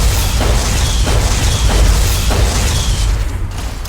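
A gun fires repeatedly in the game Fallout New Vegas, Old World Blues, giving loud, dense booming bursts roughly every half second or so with continuous rumbling underneath.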